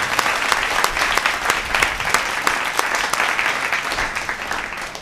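Enthusiastic applause from an audience at a Hindi poetry recital (kavi sammelan), with sharp individual claps standing out over a dense, steady wash of clapping that carries on for several seconds and tapers slightly at the end.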